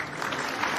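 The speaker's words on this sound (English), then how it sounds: "I can't find the applause button." A short burst of canned applause played from a button on a sports talk show, dense clapping texture filling the brief moment at moderate level.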